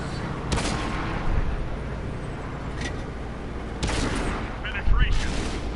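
A tank cannon fires in World of Tanks, giving a few sharp booming blasts spaced seconds apart over a steady rumbling engine and battle-noise bed.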